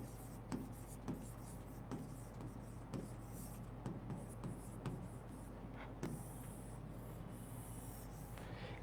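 Pen strokes scratch across paper, a soft ongoing rubbing punctuated by frequent short taps and ticks, faint and close against a low steady room hum.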